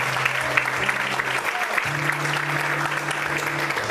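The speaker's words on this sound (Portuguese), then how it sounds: "Você pode aplaudir a Deus por isso?" A church congregation applauds in a dense, steady wash of clapping, with a sustained organ or keyboard tone underneath throughout.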